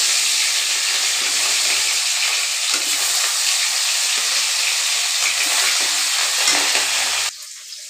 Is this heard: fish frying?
yes